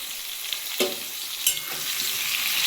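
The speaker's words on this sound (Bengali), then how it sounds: "আমার আলুটা খুব সুন্দর ভাজা হয়ে গেছে আর চাপা দিয়ে দিয়ে ভাজলে" Potatoes sizzle in a pan while being pressed down, a continuous close frying hiss broken by two sharp scraping knocks of the utensil, with no talking.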